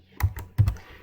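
Code being typed on a computer keyboard in a quiet room: a handful of crisp keystrokes, close up, in two small pairs with brief pauses between them and no voices.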